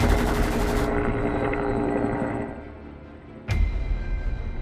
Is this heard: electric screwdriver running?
no